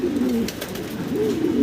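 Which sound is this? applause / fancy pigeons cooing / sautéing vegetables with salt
fancy pigeons cooing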